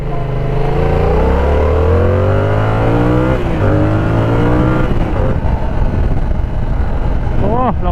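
A Yamaha YZF R7 motorcycle roars loudly up close on a test ride, its engine note repeatedly climbing in pitch through the gears and dropping between shifts, continuous and dominant throughout.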